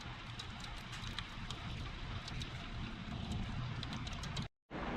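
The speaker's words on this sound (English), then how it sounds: "Yes, that's hail coming down." Hail falls outside in April weather, a dense steady patter and hiss with scattered sharper ticks of stones striking, continuous and fairly loud until a sudden brief cut near the end.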